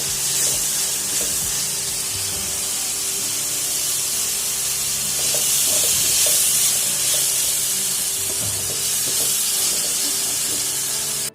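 Tomatoes and green chillies fry in a pan for a dry fish curry, giving a loud, steady sizzle and hiss with occasional stirring scrapes close by.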